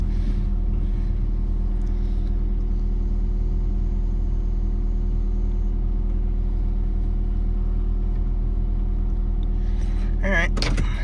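A 2015 Scion tC with an aftermarket front motor mount idles while warming up, a steady close engine hum running unbroken throughout, with a brief clunk or rattle near the end.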